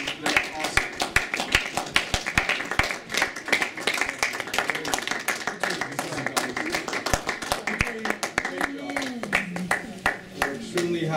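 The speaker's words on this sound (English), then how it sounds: "just give them a round of applause because they're awesome" Audience clapping for staff at a graduation ceremony, a steady run of hand claps lasting several seconds, with voices and cheering mixed in behind.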